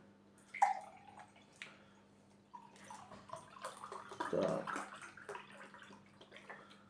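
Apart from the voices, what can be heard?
pouring pineapple-apple nectar into a glass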